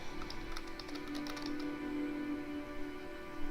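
Quiet, steady typing on a computer keyboard, with a run of light key taps over a constant background hum and no talking.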